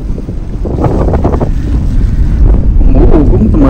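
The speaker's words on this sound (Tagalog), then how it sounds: "Pasensya na po bigla pong lumakas ang hangin. Palakas na ng palakas." Strong snowstorm wind roars steadily and loudly into the microphone outdoors, a dense rushing blast that keeps growing, with a voice faintly heard under it.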